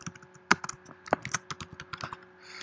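Clicky keystrokes on a Mac computer keyboard, close up, a quick irregular burst of taps with a couple of louder strikes, no talking.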